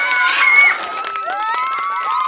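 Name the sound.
children cheering and applauding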